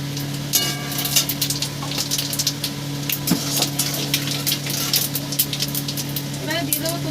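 Whole cumin seeds, added to hot oil along with bay leaves and whole garam masala, sizzle and crackle in a pan with irregular pops and spits over a steady low hum.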